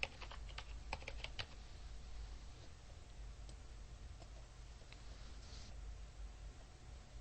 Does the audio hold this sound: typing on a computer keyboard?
yes